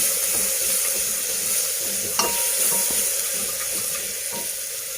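Ridge gourd and potato frying in oil, a steady close sizzle that holds evenly throughout with a few faint stirring clinks and no voices.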